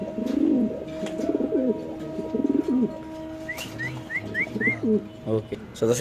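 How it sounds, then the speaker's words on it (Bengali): Pigeons coo in low, throaty rolls close by at a pigeon sale, while someone talks over them and a short run of chirps rises in the background. "কবুতরের ডাকটা একটু দেখা দিই"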